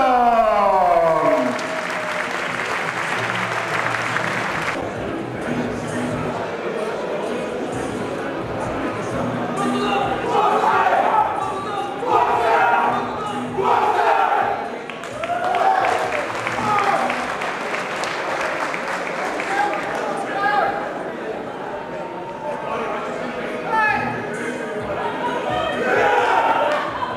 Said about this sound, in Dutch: Nogmaals een hartelijk applaus voor Amsterdam